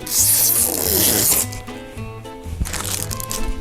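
Protective film peels off the mirror panel of a soundbar in a bright, crackling rip that fades after a second or so, followed by softer rubbing and handling noises up close, with a voice speaking partway through.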